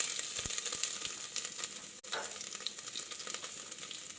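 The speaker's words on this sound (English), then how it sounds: "there will be a little bit of a reaction from that wet ginger going in there" Wet fresh ginger dropped into a hot pan sizzles and crackles steadily, with faint scraping of a spoon, close and fairly soft without speech.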